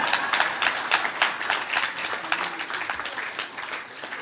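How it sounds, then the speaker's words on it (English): Audience applause after a presidential speech in Guyana, a dense, steady patter of many hands clapping at moderate loudness, continuing without a break and easing slightly toward the end. "Thank you for your applause."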